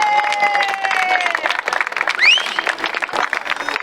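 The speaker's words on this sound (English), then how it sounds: "So big round of applause, guys." Outdoor crowd at a freedom march clapping for speakers, a lively patter of many hands with a few whistles and shouts mixed in, moderately close and uneven in loudness.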